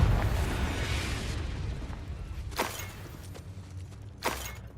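Confringo spell blasts go off in Hogwarts Legacy, two sharp bright bursts cracking out over a fading low rumble, the second slightly louder, with no voices.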